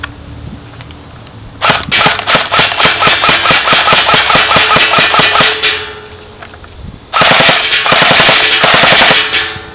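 A Lancer Tactical M4 airsoft gun fires two loud, rapid full-auto bursts at a target outdoors, the first about four seconds long and the second about three, with a faint motor whine between them.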